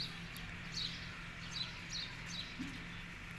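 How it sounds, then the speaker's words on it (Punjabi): Pet pigeons kept by a pigeon fancier call softly in short repeated chirps and coos, faint and a little distant against a steady background hum. "ਇਹ ਮਾਸ਼ਾਅੱਲਾ ਕਬੂਤਰ ਆ ਆਪਣਾ"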